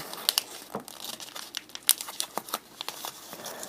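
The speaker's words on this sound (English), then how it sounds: "I'm gonna try just kind of to like fold it down, fold it inside, fold it down and in." Paper cover of a Yoda fold being folded down and tucked in, with close, crisp crinkling and crackling in irregular bursts throughout.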